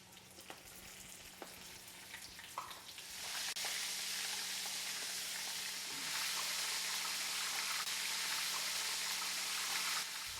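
Oysters fry in hot grease over a warm wood fire, the pan settling into a steady, fairly loud sizzle after a few quiet seconds, with faint taps early on.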